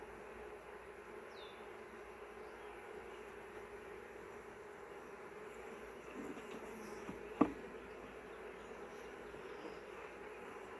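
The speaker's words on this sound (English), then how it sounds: "the way these bees are clustered up on here" Low, steady buzzing of honey bees clustered on a hive frame hums close by, with a single sharp knock partway through and no voices.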